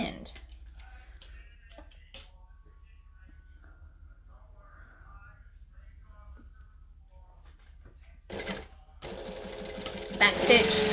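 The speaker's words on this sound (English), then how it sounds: "we're going to put them right sides together and sew this little bit here" A sewing machine runs a seam on a dress sleeve for a McCall's M7314 pattern. Quiet handling clicks come first, then a close burst of rapid stitching near the end.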